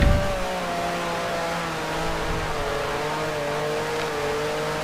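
A 1960s Grand Prix race car engine in Grand Prix Legends drones steadily, its pitch shifting through gear changes, with a sharp initial burst and then a sustained mid-pitched roar and tonal whine.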